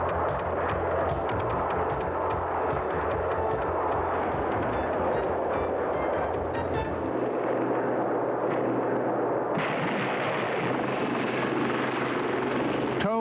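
Gazelle military helicopter armed with four to six HOT missiles gives a loud, continuous rotor and engine roar throughout, the tone shifting near the end, with a narrating voice mixed in.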